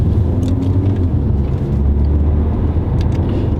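Steady low engine drone and road rumble from an Audi A5 Sportback TFSI Quattro with a 2-liter 4-cylinder petrol engine, heard from inside while cruising, constant and even with no voices.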